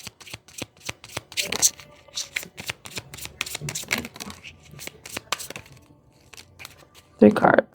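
A deck of playing cards shuffled repeatedly, a quick run of crisp riffling snaps and flutters close to the mic, ending in a louder, denser burst of shuffling.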